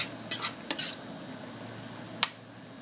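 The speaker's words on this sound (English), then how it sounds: "as we're deglazing, we're just going to stir the bottom and get those wonderful brown bits up" A spoon scrapes the bottom of a pan being deglazed with tasso, onions and garlic for shrimp and grits, a few sharp metallic clinks and scrapes over a low quiet simmer.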